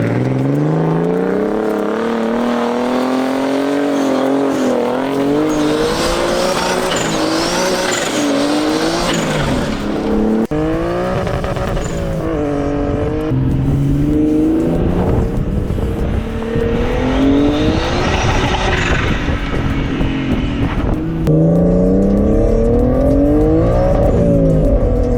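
Big-turbo RB20-swapped Nissan 240SX tearing across desert dirt, engine howling loud and close through repeated rising revs and gear changes, with tire scrabble and skidding throughout.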